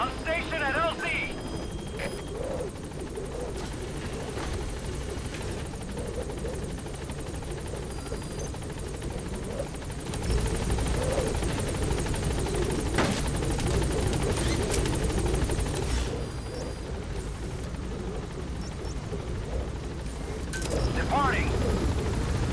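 Pequod, a support helicopter in Metal Gear Solid V, hovers at a landing zone, its steady rotor drone filling the scene with a louder surge partway through, while a voice speaks over it.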